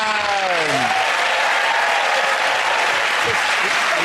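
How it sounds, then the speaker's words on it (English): A studio audience gives sustained, loud applause and cheering throughout, a dense, steady wash of clapping. "give it a round of applause for Chris"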